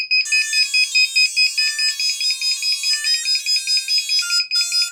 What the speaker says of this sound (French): maintenant vous savez comment changer votre foutue sonnerie de drone Nokia 3310